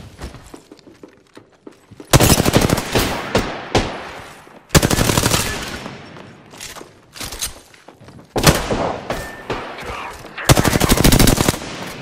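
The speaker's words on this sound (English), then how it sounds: "Getting shot at." Bursts of automatic gunfire in the Apex Legends battle royale, several long rapid rattling volleys close and loud, separated by short lulls with scattered single shots and footsteps.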